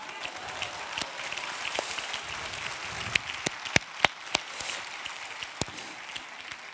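An audience applauds after a piano recital at a national SESSAD event, with scattered sharp hand claps over a soft wash of clapping that grows more pronounced midway.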